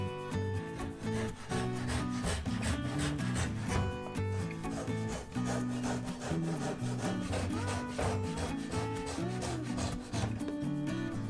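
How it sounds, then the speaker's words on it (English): A hand saw cuts notches into the ends of wooden floorboards in Japanese woodworking, with quick repetitive rasping strokes, close and steady throughout. "The first board is conflicting against the column, so make notches at the both ends"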